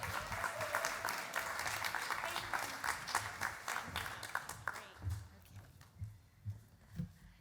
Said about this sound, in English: In case you didn't cheer, we brought our own cheering section